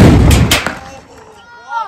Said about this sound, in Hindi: गाइस फाइनली बम बना दिया, ये देख लो गाइस ऊपर जा रहा है छत पर भटकाने के लिए।